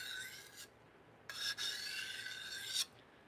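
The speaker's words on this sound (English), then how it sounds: "we'll do a couple just quick burr removals" A knife rasps across a sharpening stone in quick burr-removal strokes: one short stroke, a pause, then a longer scraping pass, close and fairly faint.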